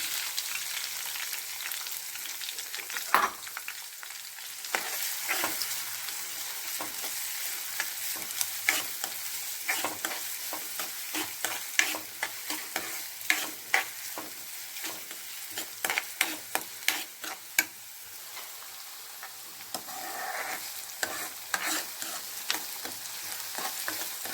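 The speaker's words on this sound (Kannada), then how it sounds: "ನೋಡಿ, ಈರುಳ್ಳಿ ಇವಾಗ ಚೆನ್ನಾಗಿ ಫ್ರೈ ಆಗಿದೆ." Chopped onions frying in oil in a pan for a palya, a soft continuous sizzle broken by frequent spatula scrapes and taps against the pan, close and fairly quiet, with no talk.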